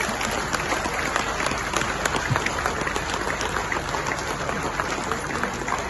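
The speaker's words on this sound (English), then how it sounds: "now a bigger round of applause" Audience applause at a public event in Jammu and Kashmir greets the Chief Minister, dense and steady clapping from a large crowd that holds evenly throughout.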